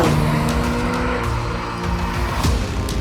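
A Mercedes-AMG GLC 43 engine roars under hard acceleration, holding a loud, sustained drone with a rising tone heard from close by and no talking.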